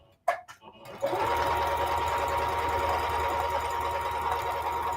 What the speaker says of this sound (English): And then I'm just going to sew all the way around to the other side of my pocket.